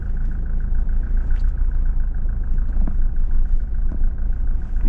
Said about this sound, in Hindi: भैया गाड़ी स्टार्ट कर दी है।